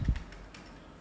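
A few quick keystrokes tap on a computer keyboard, close and fairly soft, with a brief cluster of clicks in a short moment.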